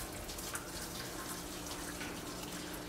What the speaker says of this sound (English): let me turn off the water